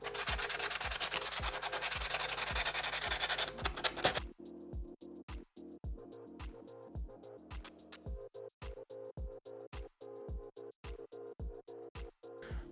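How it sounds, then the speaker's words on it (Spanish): Hand sanding with sandpaper on the fairing of a 1989 Honda CBR 1000F, first a dense continuous rasp, then close rhythmic back-and-forth strokes at a steady pace. "Le vamos a pasar un poco la lija"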